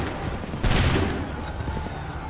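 In the Assassin's Creed III video game, a volley of musket fire bursts out as a dense crackle of overlapping shots amid constant battlefield noise.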